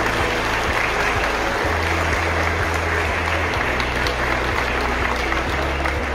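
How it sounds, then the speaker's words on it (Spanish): An audience applauds continuously and loudly, with dense, steady clapping throughout and a faint murmur of the crowd underneath. "yo quiero pedir un aplauso para todos nosotros"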